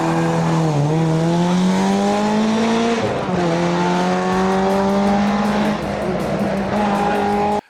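Rally cars sliding hard at the 2022 Rallye des Ardennes, engines screaming loud and close with rising revs and tire squeal through the drifts, continuous before cutting off abruptly.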